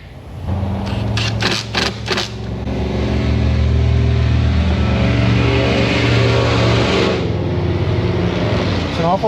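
Loud, unmuffled car engine idling and revving in a repair shop, a steady throaty roar filling the whole clip after a few sharp clicks at the start.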